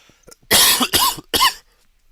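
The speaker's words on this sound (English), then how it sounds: "this cough is going to drive me crazy" Three harsh coughs in quick succession, close to the microphone, after a couple of faint breaths.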